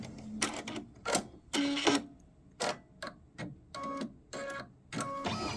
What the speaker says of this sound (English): So now we're going to stitch this down